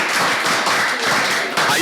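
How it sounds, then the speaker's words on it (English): Audience at a Nigerian student debate competition applauding the CMS debate team, brisk, close clapping from many hands, steady and loud across the short stretch. "A round of applause for CMS there."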